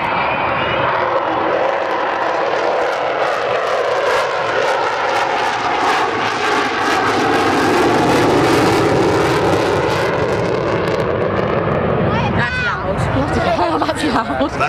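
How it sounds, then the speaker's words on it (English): A loud, sustained roar of an Avro Vulcan's four Rolls-Royce Bristol Olympus jet engines with shifting whining tones, at the Wings and Wheels 2014 show, a murmuring crowd faintly beneath it throughout. "That's the sound of 4 Rolls-Royce Bristol Olympus engines,"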